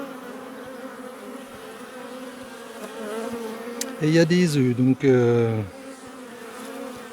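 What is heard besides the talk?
honeybees buzzing at open hive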